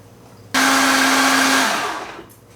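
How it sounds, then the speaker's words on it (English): A blender blending frozen fruit with raspberry and 7up whirs on abruptly with a loud high whine, runs steadily for about a second, then winds down and fades. "Alright, let's throw this onto the blender. Give it a whirl and see where we're at."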